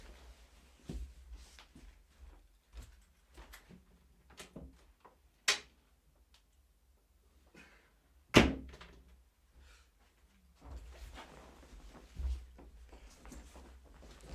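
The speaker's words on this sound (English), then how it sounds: "Open the door." Door handled indoors, a series of soft clicks and knocks capped by one sharp loud thunk, like a latch or slam, then scattered quieter knocks, with no talk.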